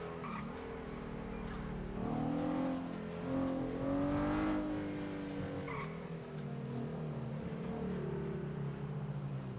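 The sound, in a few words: car drifting on a street in a video game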